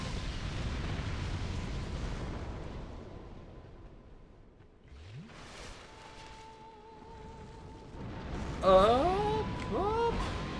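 Fire pillars roaring and bursting in Dark Souls II: Scholar of the First Sin, a rumbling whoosh carrying through the clip with a sharp, louder eruption near the end, layered with game tones.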